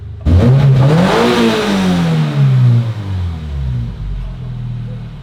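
A car with a modified exhaust pulls in and its engine revs hard, rising and falling loudly and close, with a deep rumble that settles into a lower drone as it rolls to a stop.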